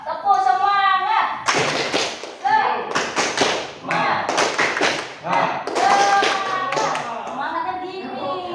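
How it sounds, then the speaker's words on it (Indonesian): A classroom of children performs the rhythmic 'tepuk semangat' clapping chant, loud and close, with bursts of patterned claps and thumps mixed with a teacher's and pupils' voices chanting along. "Semangat dulu yuk. Tepuk semangat."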